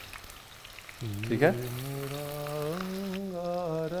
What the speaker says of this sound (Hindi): फुल गरम गरम तेल में डालना है जी